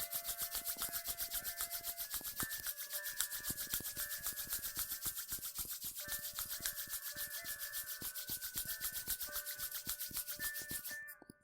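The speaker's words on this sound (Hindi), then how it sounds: "धीरे धीरे हल्के से अपने हाथ पैर हिलाएं और अपने दोनों हाथों की हथेलियों को रगड़ें।" Palms of both hands rubbed together in a quiet meditation setting, a soft continuous dry swishing held steadily for several seconds before stopping abruptly.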